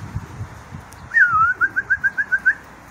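A racing pigeon nearby lets out a whistled coo and then a steady series of about eight short, evenly spaced coos over faint background noise.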